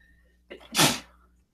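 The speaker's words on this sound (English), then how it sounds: "I had a little sneeze." A single close sneeze: a short sharp intake followed by a loud, breathy burst that quickly fades.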